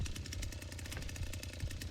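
A chainsaw engine runs in the Texas Chainsaw Massacre video game, giving a loud, rapid, rattling putter that is steady and close with no talk over it.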